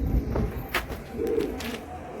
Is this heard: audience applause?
no